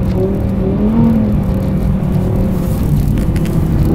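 A $400k Lamborghini slides sideways on ice, its engine droning loudly and close in a sustained roar with shifting revs throughout.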